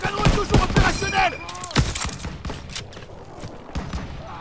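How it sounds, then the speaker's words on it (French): Rapid gunfire pours out as suppressing fire in Call of Duty WW2, sharp close shots in quick bursts mixed with thuds, and shouting voices over the opening seconds. "Ils ont besoin de tirs de couverture! Tirs de suppression! Continuez à tirer!"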